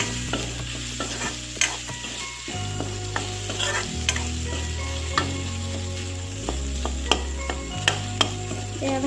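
A potato and goroi fish curry mixture fries in a pan while being stirred, giving a steady close sizzle with repeated scraping strokes and occasional sharp utensil knocks against the pan.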